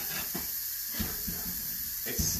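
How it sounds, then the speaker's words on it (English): Steam hisses out of an Instant Pot pressure cooker in a continuous, fairly close rush, with a few soft knocks and bumps over it. "that seems like a lot of steam to me"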